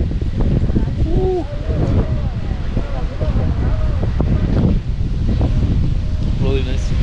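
Strong wind buffets the microphone in a steady roar while people talk and call out over it, outdoors in Saltillo, Mexico.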